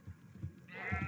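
A short sheep bleat in Minecraft, faint and quick, rising near the end of a brief moment.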